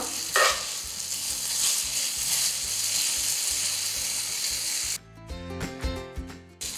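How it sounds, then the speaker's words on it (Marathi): Masala Maggi noodles with spring onion stir-fried on high flame, giving a steady loud sizzle with scraping stirs; near the end the frying gives way to background music. "हाय फ्लेमवरतीच आपल्याला हिला परतून घ्यायचं आहे आता ह्याच्यामध्ये थोडीशी कांद्याची पात घालायची आणि याला मिक्स करून घ्यायचं"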